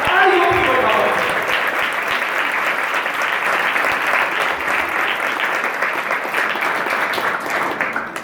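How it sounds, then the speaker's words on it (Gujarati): An audience welcoming guests on stage with applause, a loud, dense and sustained burst of many hands clapping that stays strong throughout and fades slightly at the very end. "એ સંગમને આપણે જોરદાર જોશથી, ઉમંગથી, ઉત્સાહથી, ઉન્માદથી તાળીઓથી વધાવો છે"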